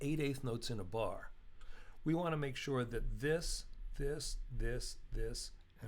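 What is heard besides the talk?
No everyday noise stands out behind the speech.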